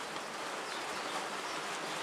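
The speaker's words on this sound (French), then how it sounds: "ça fait 2 heures qu'il pleut à verse" Heavy rain pouring down steadily at a brick renovation site, a dense continuous hiss with no breaks, close and loud, with no voices.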